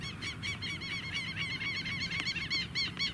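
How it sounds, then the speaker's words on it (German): Geese honk repeatedly in a noisy cluster at a sandy beach in Encarnación, overlapping calls in quick succession over a low background rumble. "Hört euch die Vögel an."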